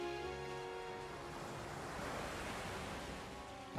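Water splashes and washes steadily as Amaterasu swims in the Okami video game, a continuous close surf-like rush with music playing underneath.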